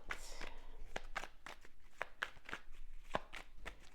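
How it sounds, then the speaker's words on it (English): Tarot cards are shuffled by hand in a quiet room, giving a regular series of crisp riffling slaps and taps, roughly two per second, close and soft. "let's get a couple more shuffles"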